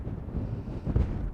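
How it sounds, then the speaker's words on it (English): Strong wind on a Southern Uplands mountain ridge during a cold, windy solo wild camp buffets the microphone with a low, continuous rumbling roar, close and fairly loud, gusting slightly but never letting up. "It's windy here, it's going to be bloody windy up there."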